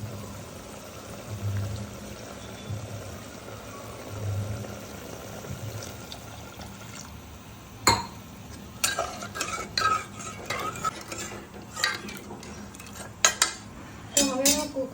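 Tomatoes and about half a glass of water going into chana dal with onions in a pot, a soft low bubbling at first, then clinking utensil and pan knocks and stirring scrapes, nearby and with no talk.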